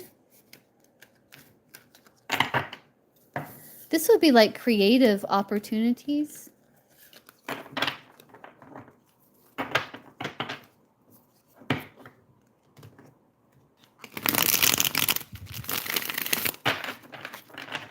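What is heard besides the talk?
shuffling tarot cards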